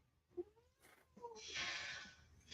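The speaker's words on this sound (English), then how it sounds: "Demanding cat." A domestic cat meows demandingly, short chirps then a longer, louder drawn-out meow, close and fairly quiet in a room.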